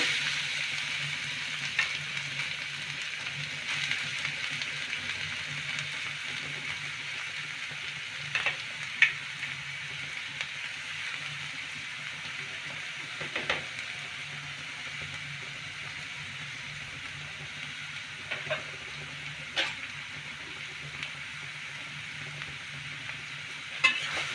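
Beetroot and carrot frying in a pan for a vegetable chop: a steady, soft sizzle runs throughout, broken by occasional light clicks and scrapes of stirring, with no voices.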